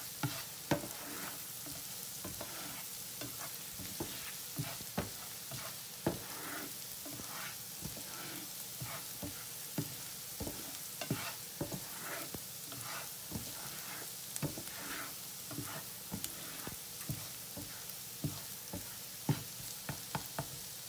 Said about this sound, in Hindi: अब यहाँ पे लहसुन जो है वो फ्राई हो गया है जितना उसको करना था